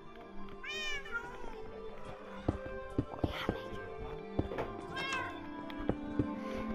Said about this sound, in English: there's a baby cat for